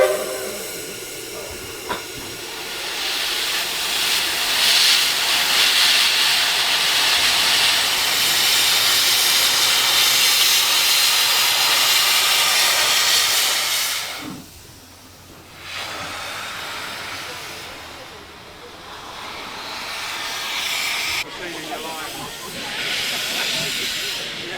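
Steam locomotive hissing loudly and steadily while shunting on a Downs Steam 1/4 scale BB18 1037 miniature railway, with a brief lull midway and low rumbles beneath the steam.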